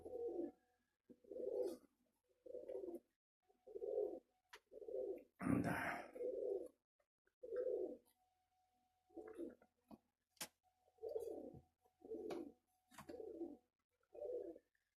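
Pigeons coo repeatedly nearby in soft, throaty bursts at a steady rhythm, with a brief flutter or rustle partway through and faint clicks between calls.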